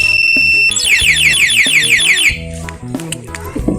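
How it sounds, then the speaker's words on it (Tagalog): A two-way alarm on a Sniper 150 motorcycle sounds loudly and close. A steady electronic beep gives way to a rapid, warbling siren that cycles several times, then stops abruptly. "Tuturo ko po kung paano gamitin tong two-way alarm na to"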